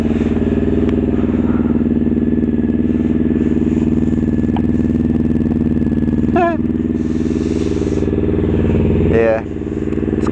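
A Honda F4i motorcycle engine runs steadily up close, a loud, even drone throughout with a couple of brief voices breaking in over it.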